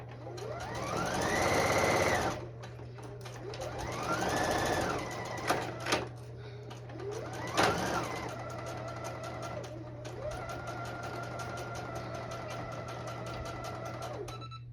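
A sewing machine stitches a dress seam at a 5/8-inch allowance, running in several long bursts that rise and fall in speed, with brief pauses and small clicks between runs over a steady low hum.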